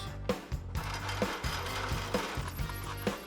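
A hole saw bores large holes through metal in a custom garage, making a continuous grinding rasp. A rhythmic chattering knock repeats about every half second, and the sound stays fairly quiet and close.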